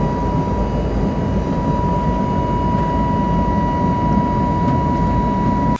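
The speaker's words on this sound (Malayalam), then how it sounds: "ഫ്ലൈറ്റ് നല്ല രീതിയിൽ ഉയർന്നു." Inside a passenger jet cabin during takeoff on a flight to the Maldives, a loud, steady engine roar and hum carry on unbroken with no voices.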